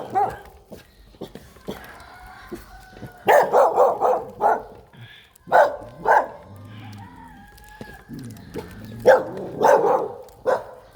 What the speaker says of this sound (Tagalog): Hinabol tayo ng mga aso.